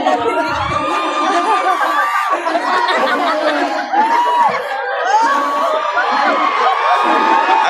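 A festival crowd at Tago during the Kasubaan Festival cheering and clapping loudly and continuously, with whoops, children's shouts and chatter mixed in.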